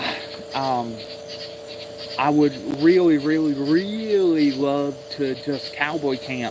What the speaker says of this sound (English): as you can hear the bugs right now